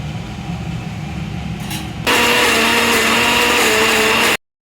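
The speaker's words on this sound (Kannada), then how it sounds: "ಸ್ವಲ್ಪ ಸ್ವಲ್ಪನೇ ಹಾಕ್ಕೊಂಡು ಮಿಕ್ಸಿ ಮಾಡ್ಕೋಬೇಕು" Low background whir, then a mixer grinder abruptly switches on with a loud, steady high-pitched whine and grinding roar while grinding a horse gram and coriander paste, cutting off sharply at the end.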